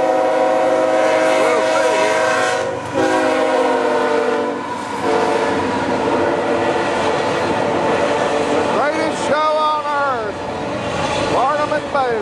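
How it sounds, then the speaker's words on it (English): The Ringling Brothers, Barnum and Bailey circus train passing through Tullahoma, loud and close, with steady rolling rail rumble, long repeated horn blasts and a sharp whistle, while people talk over it. "Ringling Brothers, Barnum and Bailey circus train coming through Tullahoma."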